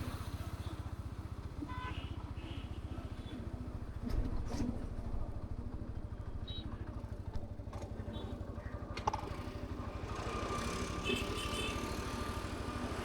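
Bajaj NS160 2025 motorcycle engine running steadily in second gear on the road, a constant close drone with no speech.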